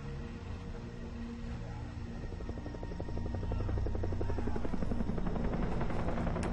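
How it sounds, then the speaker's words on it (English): Helicopter in the video game Far Cry 3: a faint rotor whir that grows louder midway into a steady close thrum of chopping blades. "Helicopter!"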